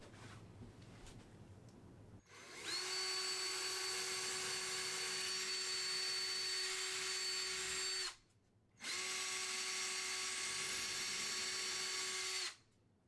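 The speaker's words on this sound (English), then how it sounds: "I drilled a whole bunch of pilot holes" A cordless drill bores pilot holes into wall studs before a Harbor Freight Armstrong full-motion TV mount goes up, with two long, steady high-pitched whirring runs split by a brief pause.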